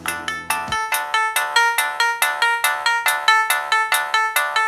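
A song plays as a mobile phone ringtone, bright electronic notes repeating in a steady, clear melodic pattern after a brief low tone at the start.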